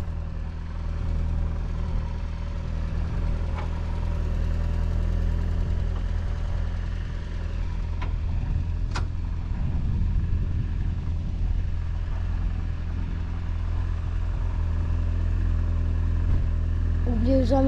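A Volkswagen Golf 3 Colour Concept, pulled out of a barn, runs with a steady low engine rumble for the whole stretch, rising slightly as it moves off, close up with occasional clunks and voices nearby.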